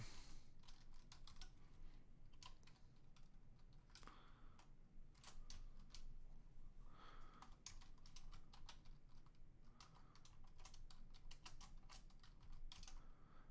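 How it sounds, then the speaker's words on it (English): A command is typed on a computer keyboard in a quiet room, a steady stream of light, uneven key clicks with brief pauses between bursts. "Now if I just do date and just type it all out."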